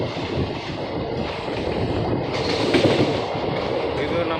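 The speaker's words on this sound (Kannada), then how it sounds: "ಇವಾಗ ನಮ್ಮ ಟ್ರೈನು ಪಿಕಪ್ ಆಗ್ತಾ ಇದೆ ಫುಲ್ ಸ್ಪೀಡಲ್ಲಿ" A long passenger train from Dharwad to Mumbai rolls along the tracks at speed, a loud steady rumble with wind buffeting and faint wheel clatter, heard from inside the moving train.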